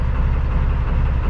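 A canal boat's engine runs steadily at idle on a sunny day, a low, even throb with rhythmic pulsing that holds constant and close throughout, with no voices.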